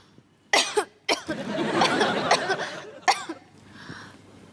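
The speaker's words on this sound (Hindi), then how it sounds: "ये खांसी तो जा ही नहीं रही।" A few sharp coughs burst out close by, followed by a stretch of rough, breathy hacking and one more cough before it fades.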